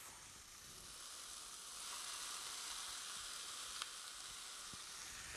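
Onion, black beans and corn sizzle and hiss steadily in a hot frying pan, a close, continuous frying sound with no talking.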